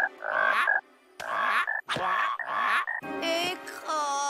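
A cartoon character turned into a frog lets out a series of loud, close croaks in bursts, ending in a sustained warbling croak, with no speech over it.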